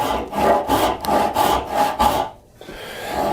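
Hand saw cutting a kerf for a half lap joint in wood, a loud close rasp of quick back-and-forth strokes in a steady rhythm, with a brief pause before sawing resumes.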